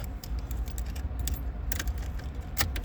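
A bunch of keys jangles and clinks in quick bursts, fairly close, while working on a red vehicle's ignition switch, with a faint low hum underneath.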